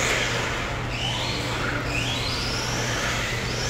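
A Tamiya TT01 radio-controlled car whining steadily as it drives through corners, its small electric motor a continuous buzzing hum with rising and falling pitch sweeps, fairly close and without talk.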